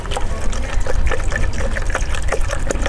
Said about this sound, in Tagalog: Buhos lang natin.